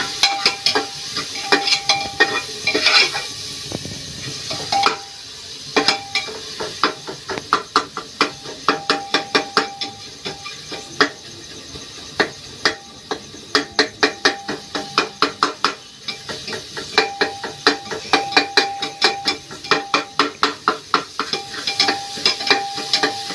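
Onions frying in a pan for a village-style dal meal, steady sizzle under a long run of rhythmic spoon taps and scrapes against the metal, close and fairly loud.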